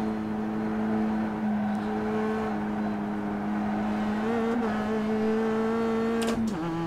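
Mazda race car in the iRacing game at Lime Rock Park, engine holding a steady drone, then revving upward sharply near the end after popping out of gear, close and fairly loud.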